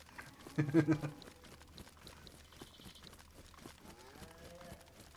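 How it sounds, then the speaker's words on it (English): A cow in the video game DayZ lets out a short, loud moo early on, then the game's background noise continues quietly with faint rustles and a softer low call near the end. "I've just heard a cow."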